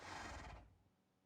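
A short Minecraft horse neigh, loud and close, fading out quickly into quiet.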